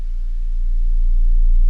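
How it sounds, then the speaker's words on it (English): A steady, low-pitched sine wave tone fed through a mixer channel hums continuously, slowly swelling a little louder over its short span. "Let's take a sine wave and plug it into our mixer channel"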